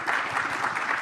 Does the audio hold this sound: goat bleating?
no